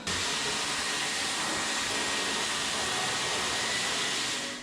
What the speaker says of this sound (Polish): Wezmę odkurzacz, wszystkie te paprochy tutaj odkurzę.